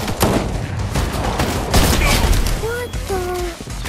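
Rapid bursts of gunfire crack out in a Fortnite match, several sharp shots close together over a busy background, with players' voices and game tones mixed in.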